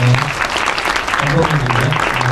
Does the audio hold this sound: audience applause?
yes